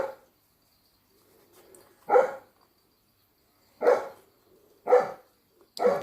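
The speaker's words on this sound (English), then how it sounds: "Apologies for the dog barking." A dog barks outside, somewhat distant, with four separate deep barks spaced a second or more apart, with quiet between them.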